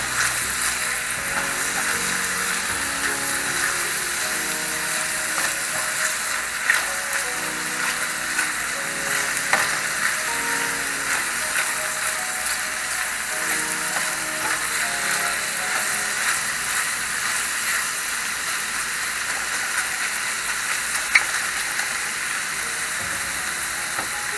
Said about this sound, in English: I got my wieners and my onions frying up